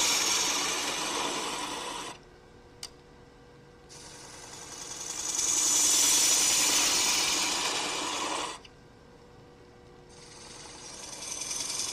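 A 3/8 gouge easing into tight wood on a lathe during a woodturners' club meeting, making loud broadband rasping cuts in long bursts with quieter pauses between them.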